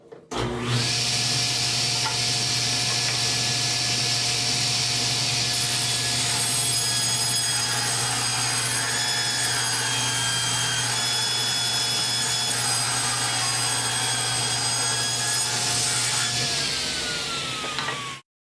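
Power saw blade running close and loud, ripping a long continuous cut through wood with a steady high whine and hum for most of eighteen seconds before stopping abruptly.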